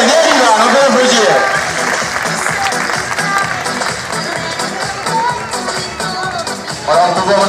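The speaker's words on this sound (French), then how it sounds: "Bien, yeah, bien, Ivan, on peut applaudir." Arena crowd at a recortadores bull event in Beaucaire applauds a performer, steady clapping and crowd noise with a commentator talking over it throughout.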